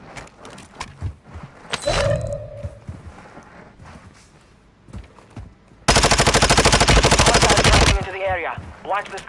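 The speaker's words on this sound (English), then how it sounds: "Someone's already shooting at me." Gunfire in a shooter video game: a few scattered shots and a roaring burst early on, then a loud, rapid, unbroken stream of automatic fire for about two seconds, followed by rising whirring tones.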